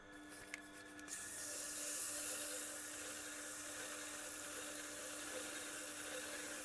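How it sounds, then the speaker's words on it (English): Steady hiss of 2000 grit sandpaper rubbed over a damaged knife blade, rising after a quiet second and continuing at an even level. "2000 grit sandpaper"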